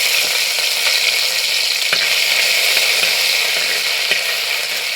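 Crushed ginger and garlic drop into hot oil already frying fenugreek seeds, a loud, dense, even sizzle with a few faint clicks of stirring, close by and without voices.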